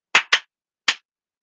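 Three sharp hand claps ring out in a short rhythm, two quick claps close together, then a pause and a single clap, crisp and near in an otherwise silent room.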